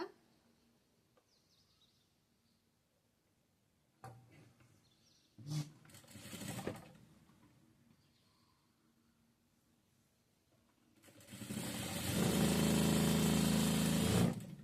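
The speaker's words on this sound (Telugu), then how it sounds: "ఇక్కడ వరకు కుట్టేసుకొని ఇప్పుడు కొనదాకా కుట్టుకోవాలి" A sewing machine stitches a child's top, with a few short bursts of stitching early on and then a loud, steady run of the motor for the last few seconds. There is no talk.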